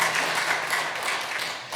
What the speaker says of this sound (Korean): 우리 함께 박수하겠습니다.